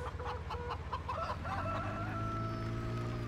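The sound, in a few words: chickens clucking and rooster crowing, Farming Simulator 17 video game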